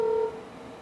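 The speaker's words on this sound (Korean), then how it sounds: "학생의 어머니에게 전화를 걸어봤습니다" A single short telephone keypad tone sounds while a call is dialed, loud and clear for a moment before a faint fading tail.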